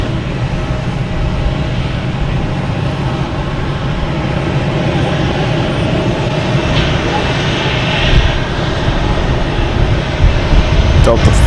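At Boston Logan Airport, a United airliner bound for Houston roars through its takeoff run, a loud continuous engine rumble heard from nearby with people talking over it.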